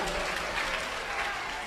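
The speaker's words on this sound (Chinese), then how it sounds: "再一次掌聲鼓勵" An audience at a school opening-ceremony stage show claps in a dense, even burst of applause that fills the hall throughout.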